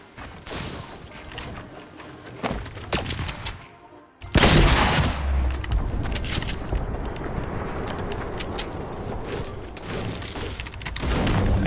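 Gunfire crackles in Fortnite, scattered sharp shots then a dense rapid burst of reports continuing loudly for several seconds, with no talk over it.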